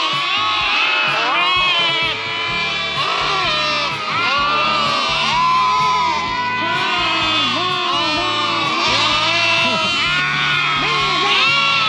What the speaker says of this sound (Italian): Sentite che concerto! Quanti agnellini che abbiamo qua!